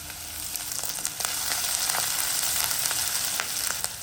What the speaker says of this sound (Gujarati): તો આપણું તેલ ગરમ થઈ ગયું છે તો આપણે એમાં જીરું નાખીશું